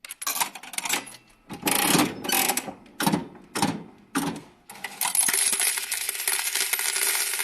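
Metallic clinking bursts of coins spilling out in several separate clatters, then a long continuous jingling cascade, crisp and near.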